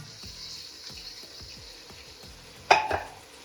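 Chicken pieces dropped into hot oil with light golden-brown onions for a chicken biryani set off a sudden loud sizzling burst that tapers off over a low steady frying hiss.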